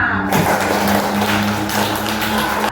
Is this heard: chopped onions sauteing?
no